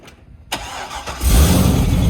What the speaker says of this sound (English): Still got the annoying belt squeal.